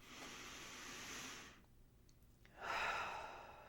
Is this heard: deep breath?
yes